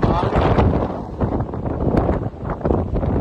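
Strong gale-force wind at sea buffets the microphone in a steady roar, with gusty rumbling and rushing noise throughout.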